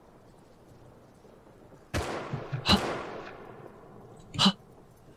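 Semi-automatic rifle fire in the game Rust: a few separate sharp cracks spaced irregularly over steady background noise, sounding at mid distance, with a brief voice nearby.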